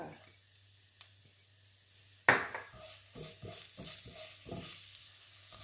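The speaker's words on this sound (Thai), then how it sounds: "พอน้ำมันเริ่มร้อนนะคะ เราก็มาใส่กระเทียมสับกันเลยค่ะ" Chopped garlic hits hot oil in a wok over medium-high heat for Thai holy basil pork, erupting in a sharp sizzle, then scraped and tossed in repeated stir-fry strokes with a crackling fry underneath.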